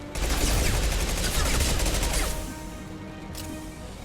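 Rapid bursts of gunfire from a Mass Effect 2 firefight crackle loudly and continuously for a couple of seconds, then fade into quieter combat noise.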